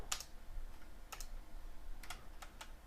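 A handful of scattered computer keyboard keystrokes, soft and fairly close, tapped in small irregular clusters at a quiet desk with no voices.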